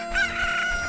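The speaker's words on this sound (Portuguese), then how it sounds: "Será que ele atormentava as galinhas?" A chicken crowing and clucking as a comic sound effect, a brief loud strained cry with a steady pitch, close and clear with no talking.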